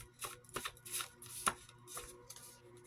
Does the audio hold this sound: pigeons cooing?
no